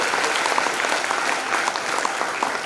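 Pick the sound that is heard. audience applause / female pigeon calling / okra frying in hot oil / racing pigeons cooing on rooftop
audience applause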